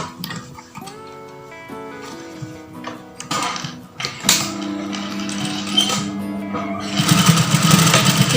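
A sewing machine stitches a batik blouse, its rapid mechanical ticking running in short bursts with pauses, over background music with tonal lines.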